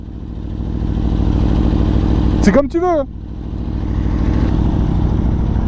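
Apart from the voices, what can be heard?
motorcycle engine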